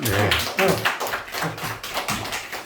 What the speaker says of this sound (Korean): 여러분 박수 한번 쳐줘요.